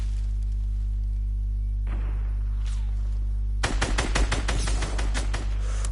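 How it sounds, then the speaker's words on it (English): Rapid sharp reports crack in a burst in Fortnite Chapter 2, loud and close, over a steady low hum, after a quieter stretch of rustling. The heavy sniper rifle cannot be confirmed from this burst. "he just nearly heavy sniped me through the bush"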